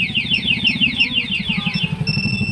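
A Yamaha NMAX V2 scooter with a keyless system and two-way alarm fires up and settles into a close, throbbing idle, while a repeating electronic alarm chirp sweeps overhead and then gives way to a steady tone.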